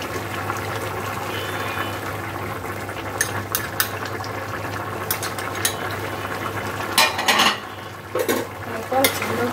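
Chopped onions and cornflour fry in a pan with a steady low sizzle and bubbling, broken by occasional scraping stirs that grow louder and more frequent toward the end.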